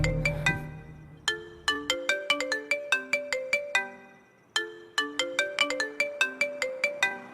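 A melodic phone ringtone plays alone, a repeating chime-like tune of bright plucked notes that starts over after a short pause.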